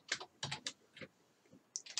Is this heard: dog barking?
no